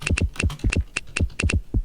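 Rapid keystrokes on a computer keyboard typing an answer in the quiz game You Don't Know Jack: about a dozen close, crisp clicks in quick irregular clusters.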